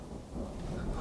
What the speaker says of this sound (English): we're having a little storm here